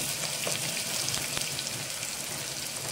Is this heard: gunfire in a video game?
no